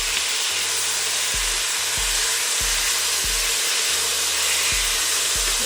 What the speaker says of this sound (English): take the back of your spatula and squish these cherry tomatoes